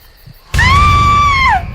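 A single loud, sustained high-pitched scream from a film trailer, starting abruptly and holding steady for about a second before falling off at the end, heard alone.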